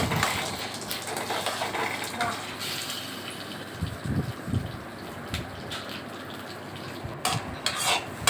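Garlic cloves fry in oil in a pan while being stirred, with continuous sizzling and repeated scraping and clinking of a spoon against the pan, all close by.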